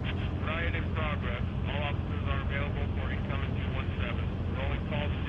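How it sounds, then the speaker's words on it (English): A helicopter flies overhead in The Walking Dead video game, a loud, continuous rhythmic rotor chop filling the whole stretch at steady strength. "Whoa! Helicopter"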